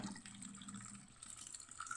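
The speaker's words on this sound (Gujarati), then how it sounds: "બટેકાને ડાયરેક્ટ આપણે નળ નીચે જ આવી રીતે ધોઈ નાખશું" Water runs steadily from a tap over grated potato being rinsed, a close, continuous splashing hiss with faint clinks near the end.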